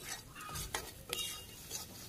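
Fish pieces fry in oil in a pan for a rural-style muri ghonto, with close, quiet sizzling and a few sharp scrapes and clinks of a utensil stirring against the metal over a couple of seconds.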